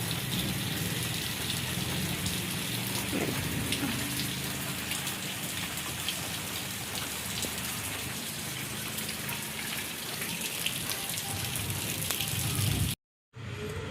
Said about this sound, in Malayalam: ഇവിടെയൊക്കെ മഴയായി കേട്ടോ